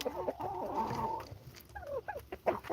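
Free-range chickens and a turkey on a farm, with a drawn-out cluck followed by several shorter, rising clucks and calls from nearby birds, loud and continuous with no talk.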